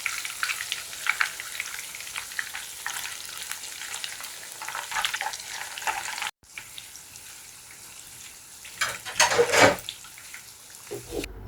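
Peeled boiled eggs and tofu fry in hot oil in a home kitchen, a dense, continuous sizzle with crackles and stirring, broken by a brief cut and a burst of louder spattering, with no talk.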